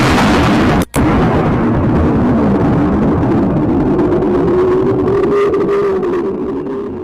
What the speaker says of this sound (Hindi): और ये थी उस विस्फोट की आवाज।